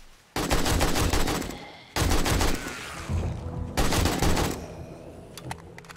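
Bursts of rapid automatic gunfire from the game 7 Days to Die come in three long, loud volleys separated by short pauses, with a few scattered single shots trailing off at the end.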